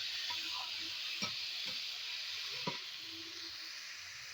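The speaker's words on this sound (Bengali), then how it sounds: "মোচাটা আর আলুটা, সেটা এবারে আমি দিয়ে দেবো। দিয়ে ভালো করে আমি মশলাটার সাথে এটাকে মিশিয়ে নেব।" Boiled banana flower and potato are stirred into fried spices in a pan, giving a soft continuous sizzle with a few distinct scrapes of the spoon, fairly quiet and with no talk.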